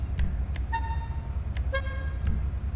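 A standard car horn on a Bugatti Bolide in GTA 5 honks several short and longer toots in a row, loud and close over a steady low engine rumble.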